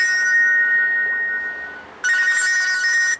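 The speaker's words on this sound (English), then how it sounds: "My phone is ringing." A mobile phone ringtone plays loudly and continuously, a bright repeating electronic tone that briefly dips before resuming.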